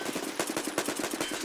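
Rapid suppressing gunfire in the shooter game Tarkov Arena: a steady, evenly spaced burst of loud automatic shots, about ten rounds in a second and a half, close and unbroken with no talk over it.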